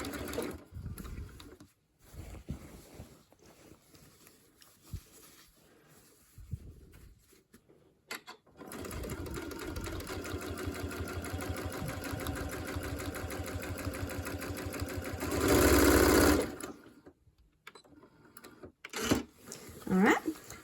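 A sewing machine stitches a quilt's binding down a marked crease line, running steadily at close range for several seconds with a brief faster burst near the end, framed by quieter pauses and light handling noise.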